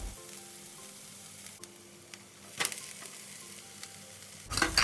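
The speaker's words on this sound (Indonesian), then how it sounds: "Tumis bawang putih dan bawang bombay yang sudah dicincang halus dengan sedikit minyak goreng sampai layu" Chopped garlic and onion sautéing in a little cooking oil until soft, a quiet steady sizzle with occasional louder crackles and a brief stir near the end.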